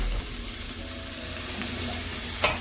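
A frying pan sizzles steadily as three Scotch bonnet peppers cook in hot oil for Jamaican escovitch fish sauce, a close, even crackle with a brief sharp spatter near the end.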